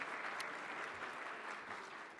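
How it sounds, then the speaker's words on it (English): An audience at an HR conference claps in sustained, dense applause, steady and continuous from start to finish, heard from within the crowd. "Let's give him another round of applause."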